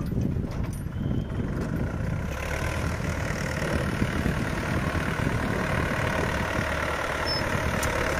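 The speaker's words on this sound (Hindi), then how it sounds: "अब ये दूसरी तरफ आ गया, अब यहाँ से ट्रैक्टर घुमाऊंगा।" A tractor engine runs steadily while turning at the end of a field during sugarcane sowing with a homemade automatic planter, a continuous mid-pitched drone with faint rattling, alone and fairly close throughout.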